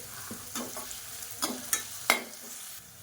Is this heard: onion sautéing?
yes